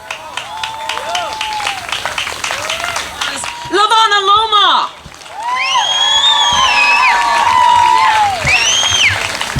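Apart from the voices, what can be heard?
crowd applause and cheering at a rally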